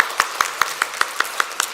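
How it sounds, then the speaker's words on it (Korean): A church congregation gives a welcoming round of applause during a Sunday morning service, the claps steady, evenly spaced and fairly close. "우리 환영의 박수 하도록 하겠습니다."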